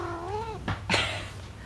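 A house cat gives one drawn-out meow with a rising-and-falling pitch, followed by a couple of short breathy noises, close and fairly quiet against a low background hum.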